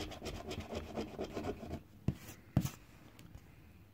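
Coin scratching the coating off a lottery scratch card: a steady rough rubbing rasp, close and fairly quiet, then two sharp taps and a near-silent pause.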